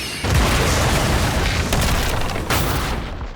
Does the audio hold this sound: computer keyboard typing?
no